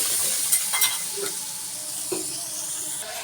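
Chilli being stir-fried in a pan for a spinach and prawn curry, with a steady sizzle and a few scraping stirs of a spatula running throughout, close and fairly loud with no talking.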